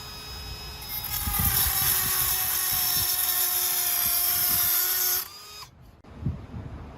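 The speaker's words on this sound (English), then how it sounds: "We dremelled it to make a Phillips head" Dremel rotary tool grinding into a stripped brake rotor screw on a Honda: a high, steady whine runs for about four seconds, then cuts off and winds down, followed by a few light knocks.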